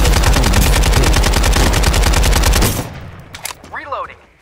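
Rapid automatic gunfire in Farlight 84, a long loud burst of evenly spaced shots that stops abruptly, followed by a few scattered sounds and a brief voice.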